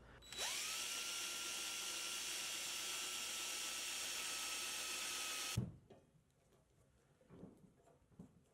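A power drill whines steadily at high speed for about five seconds drilling holes for hairpin legs on a walnut table, then cuts off abruptly, leaving faint room noise and a few soft knocks.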